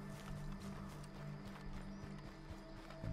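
Horse hooves galloping in Red Dead Redemption 2, a steady clip-clop rhythm running through the whole stretch at moderate loudness, with low game ambience and a faint whinny-like tone underneath.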